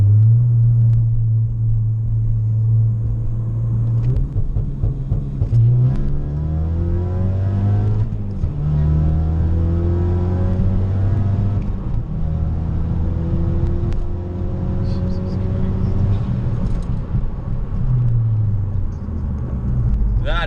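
A 2017 Ford Focus RS pulls hard from a rolling launch-control start. The engine note climbs and drops through repeated rev sweeps and gear changes, loud and continuous with a deep rumble underneath.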